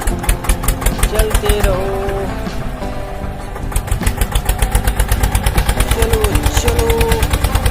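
A small toy tractor's engine chugs in a fast, steady, rattling putter, loud and close from start to finish, while a person talks over it.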